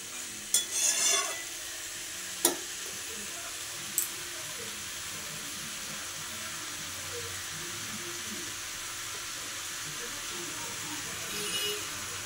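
Green chilies dropped into hot oil over a medium gas flame, a few sharp clatters and spatters at first, then a steady, fairly quiet frying sizzle that holds for several seconds.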